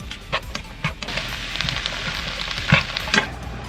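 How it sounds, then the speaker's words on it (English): Vegetables with a tablespoon of minced garlic and onions sizzle steadily in a pan, with scraping stir strokes and a few louder clatters rising over the constant frying hiss, cooking for a vegetarian lasagna. "We're also going to add 1 tablespoon of minced garlic. Okay, now stir for 3 to 5 minutes."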